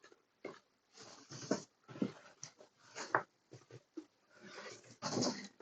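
A dog whimpers and pants indoors close by, in a string of short, uneven whines and breathy bursts with no talk over them.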